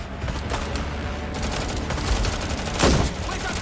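Dense gunfire in Watch Dogs: Legion, a loud, continuous burst of rapid shots with a heavier boom near the end.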